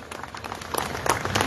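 A crowd at a neighborhood council meeting applauds, and the steady clapping grows slightly louder toward the end of the short stretch.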